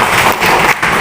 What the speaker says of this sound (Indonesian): Berikan tepuk tangan untuk Best